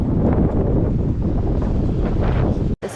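Strong, steady wind buffets the microphone at a lakeside campsite on Garnet Lake along the John Muir Trail, a broad continuous roar that briefly drops out near the end.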